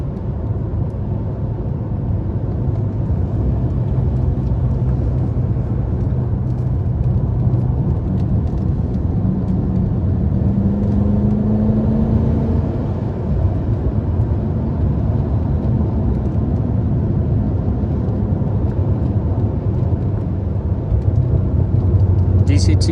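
A BMW F10 M5 cruises with its V8 engine and exhaust giving a low, steady droning burble from inside the cabin, continuous and even throughout, with someone talking over it.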